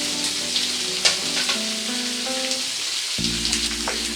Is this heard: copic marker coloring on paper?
no